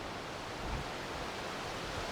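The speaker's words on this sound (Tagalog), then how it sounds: "Lakas ng alon." Strong ocean waves at a beach in Baybay, a steady broad roaring wash of surf that fills the whole stretch without clear breaks, loud and close, no talking.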